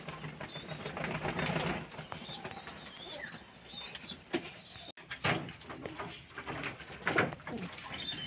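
Pigeons drink water close by, giving soft repeated coos and brief bursts of wing flapping over a quiet background.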